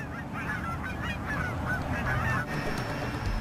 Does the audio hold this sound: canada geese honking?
yes